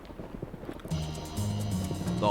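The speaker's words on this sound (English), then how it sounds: "The horses are on the track." Racehorses in the Gallop Racer video game move onto the track, with soft rhythmic hoofbeats followed by a swelling game music and crowd tone, brief and moderately loud.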